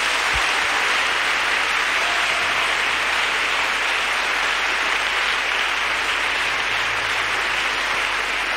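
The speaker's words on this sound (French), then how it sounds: "Acclamons pour Jésus-Christ." A church congregation claps in sustained applause during a French-language worship service, a dense, steady wash of hands that holds at even loudness from start to finish with no voices over it.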